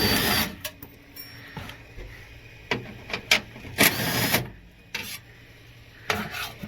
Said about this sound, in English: Just a few 10 mil bolts to take out this plate.